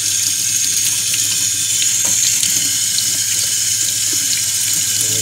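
Tap water runs steadily into a kitchen sink as food is rinsed under the stream, a continuous loud hiss with faint splashes from the food, no talking.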